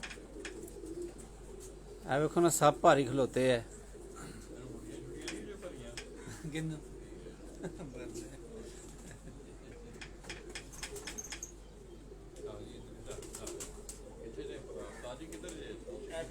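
Rooftop pigeons coo softly in low, rolling calls amid faint background noise, while people talk nearby and a louder burst of voices breaks in early on.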